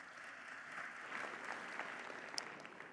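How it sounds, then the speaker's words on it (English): A panel audience gives steady applause at a livestreamed conference arena session, moderately distant and even across the whole stretch, with no talk over it. "If we can just have a round of applause for our panelists."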